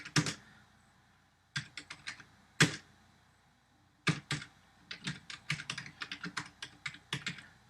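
Bursts of clicky keystrokes on a computer keyboard while code is typed, quiet and close, with pauses between short runs and a rapid flurry at the end.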